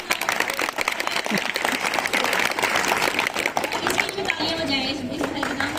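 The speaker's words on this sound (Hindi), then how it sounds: "तालियां।" Audience applause at a class session on artificial intelligence held at a governor house, steady clapping filling the room with voices talking over it and a speaking voice emerging near the end.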